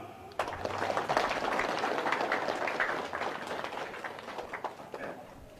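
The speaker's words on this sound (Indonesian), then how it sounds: "Tepuk tangan." A crowd gathered for an Islamic religious lecture in Indonesia breaks into applause: a sudden, dense burst of many hands clapping that holds for several seconds, then tapers off.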